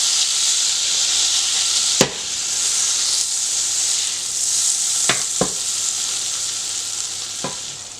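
Butter melts in a hot pot before veal ossobuco goes in, giving a steady bright sizzling hiss broken by a few sharp utensil clicks.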